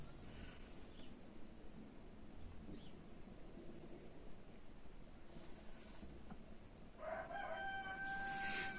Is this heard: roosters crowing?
yes